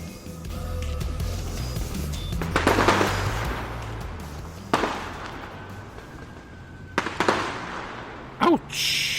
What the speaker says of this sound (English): I expect people to shoot some fireworks and maybe some other things as well